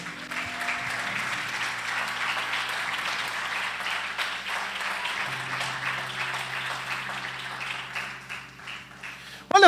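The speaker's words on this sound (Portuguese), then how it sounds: "Dá um aplauso bem forte ao Senhor." A church congregation applauds loudly and steadily during a worship service, a dense wash of clapping that holds throughout with a low organ or keyboard drone underneath.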